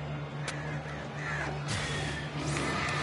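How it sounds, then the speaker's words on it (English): Crows caw repeatedly in the video game Alan Wake Remastered, several harsh calls over a steady low ambient hum, with no talking. "there's so many birds."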